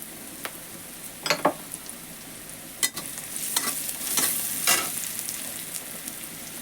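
Turmeric and chili powder spices frying in a pan, a steady soft sizzle with a few sharp scrapes of a spatula stirring, close and quiet.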